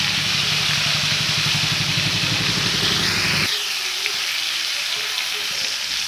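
Freshly added new potatoes fry in a kadai with salt and turmeric, giving a steady, fairly loud broadband sizzle. A rhythmic low rumble runs under it for the first half and then drops away, leaving the hiss alone.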